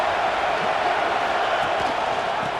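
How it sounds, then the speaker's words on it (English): A stadium crowd in the College Football 26 video game swells into a steady, loud roar with no clear breaks, filling the whole short stretch. "This crowd rising up, sensing that its defense needs some help."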